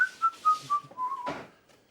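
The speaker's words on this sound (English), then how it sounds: "Give me a little whistle while we work." A person whistles a short tune while mopping, a run of clear sliding notes followed by a brief noisy burst, then quiet.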